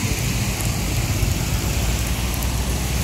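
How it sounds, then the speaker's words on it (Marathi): Heavy rain pouring down steadily at Khopoli near Khandala, a dense, loud, unbroken wash of drops with a low rumbling undertone throughout and no voices. "आता खोपोलीमध्ये पोहोचलोय आणि हा पाऊस बघा, जोरदार पाऊस आहे।"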